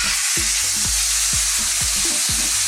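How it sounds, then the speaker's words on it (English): Pork mixture stir-frying in a smoking-hot wok over very high heat, a loud steady sizzle broken by repeated scraping tosses of a spatula at an uneven rhythm. "we're going to stir fry this on a really high heat"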